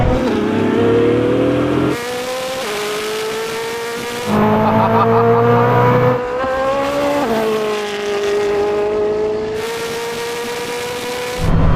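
A Koenigsegg Jesko and a Bugatti Chiron Super Sport accelerate hard in a drag race from a rolling start in third gear, loud engine roar climbing in pitch through several upshifts, each gear change cutting and restarting the sweep.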